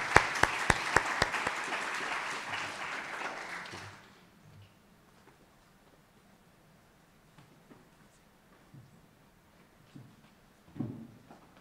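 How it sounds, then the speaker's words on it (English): Audience applause in a hall at a school speech day, a burst of clapping with a few sharp nearby claps that fades out after about four seconds, leaving faint room noise and small rustles. "Would you like to give them a round of applause once again?"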